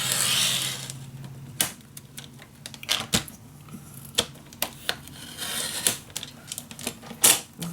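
Paper being cut by hand for a handmade magic box project, a series of sharp snips and rustles, some closer together and some spread out, near and moderately loud with no talking.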